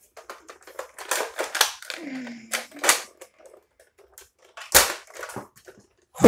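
Worn toy dart blaster picked up at a flea market, firing old foam darts in rapid snappy bursts until the magazine runs empty, loud and close, with talk mixed in between shots.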